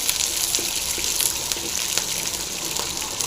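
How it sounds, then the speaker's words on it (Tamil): Garlic and green chilies frying in a pan make a steady, moderately loud sizzle and crackle with brief pops throughout, with no talk over it. "இது வந்து நல்லா ஃப்ரை ஆகிடுங்க."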